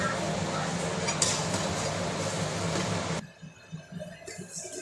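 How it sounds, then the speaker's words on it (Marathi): Chutney being sautéed in a pan for a katwada and vada pav meal, with a dense sizzle and scraping of a utensil against the pan that abruptly drops away into a few quieter clinks and taps. "याला चांगलं 2 मिनिटं परतून घेऊया"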